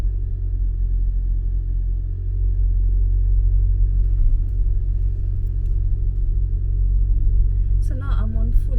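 A car driving at night, a steady low engine rumble and road drone from inside the cabin, a brief voice near the end.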